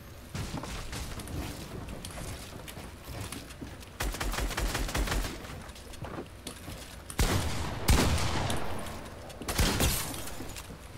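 Video game gunfire in a shooter match: bursts of rapid automatic shots and sharp single cracks arriving in clusters, loud and close, with short gaps between volleys.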